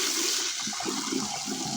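Cold water runs steadily from a tap over a Final Faction Riptide action figure, a continuous broadband rush with no talk.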